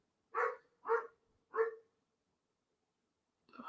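A dog barks three times in a quick, evenly spaced run, close and clear against silence, then starts another bark after a pause.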